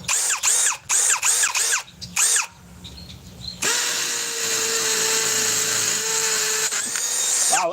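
A cordless hammer drill with an Edge tabless-cell battery gives a few short rhythmic bursts, then a long loud continuous hammering whine as it drills into concrete close by.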